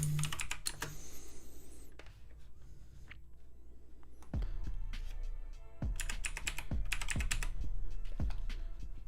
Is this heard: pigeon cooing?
no